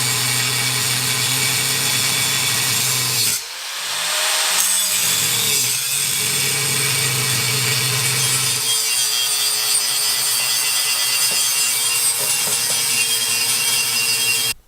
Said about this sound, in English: now we bevel these out a little bit on each side too